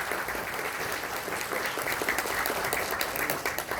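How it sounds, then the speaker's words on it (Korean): An audience at an investment seminar gives steady applause for a speaker, a continuous wash of many clapping hands throughout. "박수 부탁드립니다."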